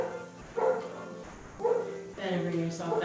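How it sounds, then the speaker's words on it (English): A dog barks in a room during a quiet chair yoga session, three separate barks at a moderate distance, the last one longer and followed by a whine, over a soft background hum. "My sweet dog Bailey barking"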